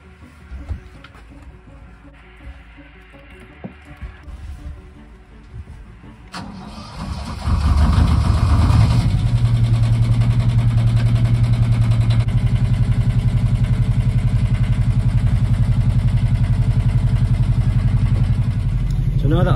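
A narrowboat's engine cranks and catches, then settles into a loud, steady idle as it warms up, following a few quiet clicks and knocks while casting off in West London.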